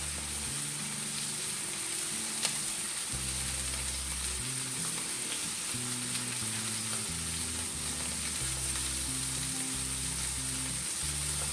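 Steak sizzles steadily in a hot pan for a steak-and-eggs brunch hash, a dense, even crackle that never lets up, with a quiet low musical bed shifting underneath.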